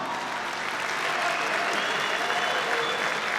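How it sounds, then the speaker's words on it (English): Audience applause rings out for the female fighters at the Polaris 11 grappling event, a steady, dense wash of clapping and crowd noise that holds loud and even throughout. "huge round of applause for our female warriors this evening"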